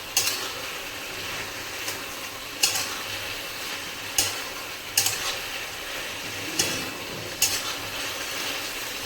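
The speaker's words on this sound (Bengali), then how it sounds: "ভালো করে ভেজে নেব।" Chopped green and ripe chillies frying in a pan for a Bengali pui shaak stalk chorchori, with a steady low sizzle punctuated every second or so by sharp scraping strokes of a spatula against the pan.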